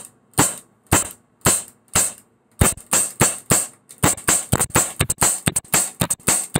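A handgun being fired rapidly on a range to empty its magazine: loud sharp shots, first a few evenly spaced single reports, then a fast dense string of cracks, close and alone without voices.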